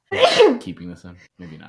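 A single sharp human sneeze bursts out near the start, loud and close, followed at once by a person talking.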